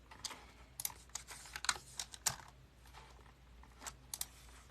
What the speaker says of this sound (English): I'm reading it and typing it.